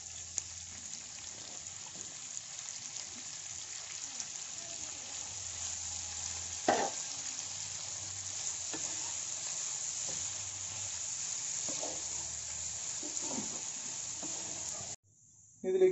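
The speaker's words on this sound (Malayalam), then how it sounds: "ഇനി പച്ചമുളക് കൂടി ചേർത്ത് കൊടുക്കാം" Green chilies sauté in hot oil in a pan while squid roast is being made, giving a steady, fairly quiet sizzle with occasional scrape and knock of a spoon and no talking.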